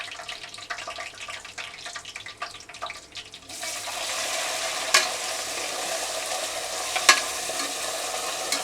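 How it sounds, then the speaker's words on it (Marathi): Onion is frying in oil in a pan, with faint clatter at first and then a louder, steady hiss that runs to the end, broken by a couple of sharp spatters. "पाहू शकता तुम्ही इथे आपला जो आहे कांदा आता त्याच्यामध्ये आपण टाकलेला आहे. फ्राय करून घेऊया त्याला मस्तपैकी"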